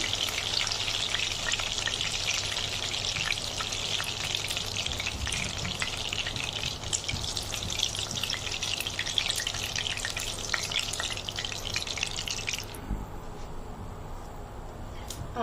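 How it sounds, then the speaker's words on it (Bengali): Chicken pieces fry in hot oil in a pan with a dense, continuous crackling sizzle, close and steady, with occasional stirring scrapes; the frying quiets slightly near the end. "আমার সবগুলো চিকেন ভাজা হয়ে গেছে"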